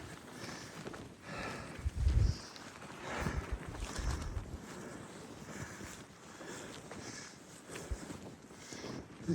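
Wind rushes steadily at an outdoor campsite on the Appalachian Trail, a constant rumbling roar with gusty swells and buffeting against the microphone, and no voices.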